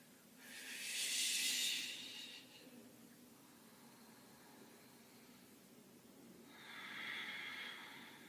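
Two slow, audible breaths move through a quiet room during a shoulder-opening yoga sequence: a long airy inhale-like hiss, a pause, then a softer breath a few seconds later, close and alone.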